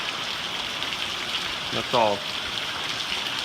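Heavy rain pours steadily over a front yard, a loud continuous hiss throughout, with a brief spoken voice partway through.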